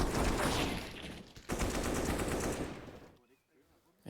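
Gunfire in Counter-Strike during a professional match on the Inferno map: dense, loud rapid automatic bursts that briefly pause, resume, then drop away near the end, with commentators talking throughout.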